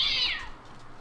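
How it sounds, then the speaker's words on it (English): A cat mob in the Minecraft video game gives a single short, high meow up close, fading into quiet game ambience afterward. "he's making a cat sound."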